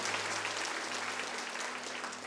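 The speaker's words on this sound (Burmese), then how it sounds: "လက်ခုပ်တီးလက်ဖျားကိုချီးမွမ်းကိုပြုကြရအောင်" Applause from a church congregation during a Sunday morning service, a steady, dense wash of clapping that holds evenly throughout with no voices on top.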